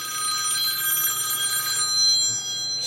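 A telephone rings steadily with a bright, continuous electronic trill, moderately loud and unbroken, in a workshop where old pinball score reels are being repaired, with no talk over it.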